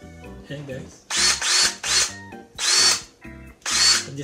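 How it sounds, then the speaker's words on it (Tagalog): A DeWalt 20V cordless drill driver whirs in several short bursts of a second or less, with brief pauses between them, close by and loud, while someone talks between the bursts. "At itong drill driver."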